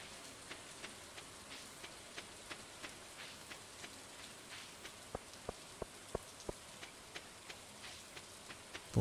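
Rain in the farming video game Stardew Valley, a soft, steady hiss dotted with faint, regular drip ticks, quiet and continuous with no talking.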